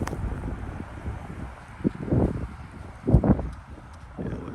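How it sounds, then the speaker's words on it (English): Outdoors near a cattle herd, wind buffets the microphone in low gusts, swelling and fading with a few sharper bursts, no speech. "Sorry about the wind."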